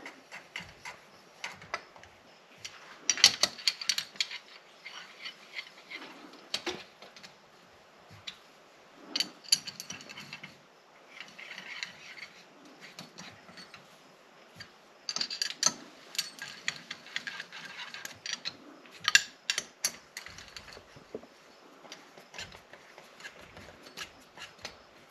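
A ratchet tightens engine case bolts on a KDX 200 in a workshop, giving quiet bursts of quick clicking in short runs separated by pauses.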